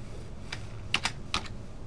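A few quick computer keyboard keystrokes typing a short word into a spreadsheet cell in Microsoft Excel 2010, close and crisp with small gaps between presses over a quiet room.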